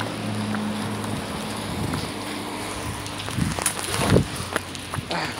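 Rain falls steadily on a residential street in Guadalajara, a continuous broadband hiss with a few louder splashes and knocks near the end; no one speaks.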